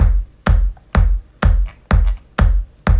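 A sampled acoustic guitar body clap hits in a steady pulse within an electronic track, six sharp snappy slaps about half a second apart with short decays and a deep low thump under each.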